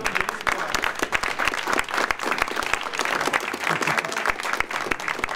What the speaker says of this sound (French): je peux beaucoup l'applaudir